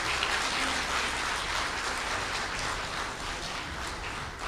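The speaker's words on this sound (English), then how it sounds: "I think we have to give them a big round of applause" An audience at a national policy forum in the Philippines applauds its presenters with dense, steady clapping that fills the room, unbroken and without voices on top.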